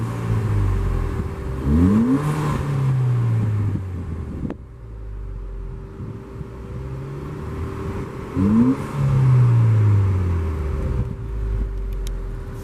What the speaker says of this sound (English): All the fun turbo noises